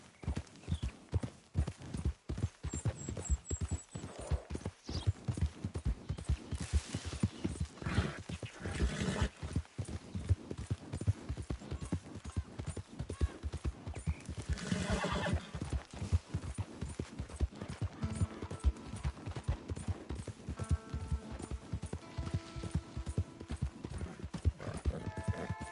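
Horse hooves clip-clop in a steady galloping rhythm throughout a Red Dead Redemption 2 ride, loud and continuous, with occasional whinnies and brief rider urging over the top.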